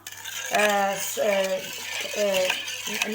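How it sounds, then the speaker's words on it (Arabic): A spoon stirs 200 grams of sugar with lemon zest in a bowl, scraping and clinking against the sides in several rhythmic strokes, close and fairly loud, with no talk. "نحرك هكا شوفوا حتى يذوب"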